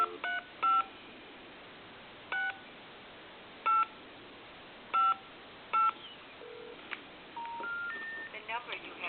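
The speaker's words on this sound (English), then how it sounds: "I'll dial my number" A Hot Dog Mustard Relish HD-8003 novelty telephone dialing a number, a series of short DTMF beeps spaced irregularly, followed by rising tones and a voice on the line, close and clear.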